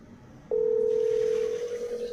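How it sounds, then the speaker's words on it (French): A telephone tone sounds while a video call is being placed, a single loud steady electronic tone that starts abruptly after a brief quiet moment and holds to the end. "On va appeler la sœur Flore Barose par vidéo direct."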